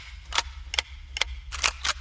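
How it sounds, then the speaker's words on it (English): Repeating rifle fired in the sandbox game Ylands: five sharp, crisp cracks in quick uneven succession, loud and close over a low hum. "Alright, so we get to use the repeating rifle on this guy."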